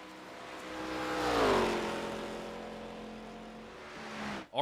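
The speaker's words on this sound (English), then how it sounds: "Already you can hear that car underpowered significantly." A damaged, underpowered race car engine in an ARCA racing game drones past, its tone swelling and sliding down as it nears and recedes, a strained steady whine that cuts off abruptly at the end.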